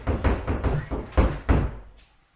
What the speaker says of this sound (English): Is he punching the door?